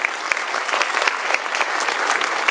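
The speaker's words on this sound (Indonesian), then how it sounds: "Oke, tepuk tangan." An audience at a business presentation applauding, a dense steady clapping from a crowd with sharp individual claps standing out, lasting the whole stretch.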